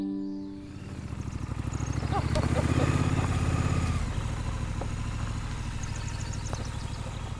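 A motorcycle engine runs at Guy Wolff Pottery in Litchfield, Connecticut, a steady mid-pitched idle with a rapid, regular throb that swells briefly and then holds, fairly close, with faint clinks and background sounds around it.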